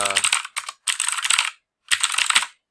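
Rapid clicking of keys on a computer keyboard, heard in three close, distinct bursts of typing separated by brief pauses.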